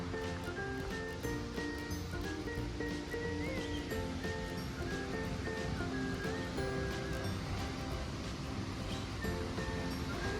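The Krimml waterfalls in Austria pour down as a steady, broad roar of rushing water, continuous and unbroken from start to finish, with no talking over it.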